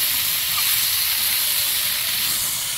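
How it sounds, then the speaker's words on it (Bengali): Potatoes and spices fry in a pan with ginger, producing a steady, loud, unbroken sizzling hiss that holds evenly throughout, with no talking. "এবারে এর মধ্যে আলুটা দেবো, আলু ভাজা হবে, সঙ্গে মশলাটাও ভাজা হতে থাকবে।"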